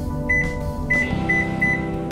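A microwave's electronic beeps as preheat temperature settings are selected, four short tones spaced about a third of a second apart, over a low steady hum.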